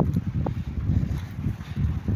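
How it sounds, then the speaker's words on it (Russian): Strong hurricane wind of about 16 metres per second blowing by a river with ice floes, a rough, low buffeting roar across the microphone with uneven gusts. "У нас сегодня ураган, метров 16 в секунду."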